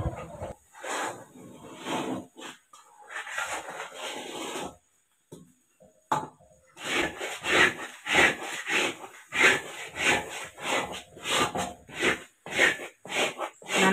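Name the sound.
stirring malt mixture in a pan over a slow flame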